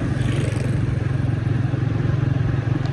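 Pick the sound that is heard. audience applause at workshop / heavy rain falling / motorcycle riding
motorcycle riding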